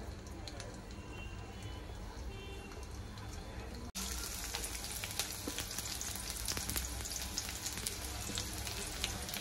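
Chopped garlic hits hot oil in a pan: a steady background hiss jumps abruptly into a louder, dense, crackling sizzle that stays strong and close for the rest of the clip, with no talking.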